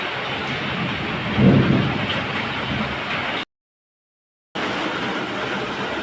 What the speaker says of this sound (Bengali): বাইরে মুসুলধারে বৃষ্টি হচ্ছে